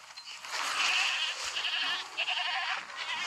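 A goat in the mobile game Jurassic World Alive lets out a sustained, nasal, wavering bleat, loud and close, filling the whole moment with no talk over it.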